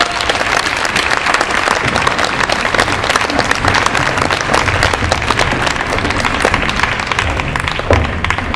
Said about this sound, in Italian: Bravissimi, di nuovo un applauso.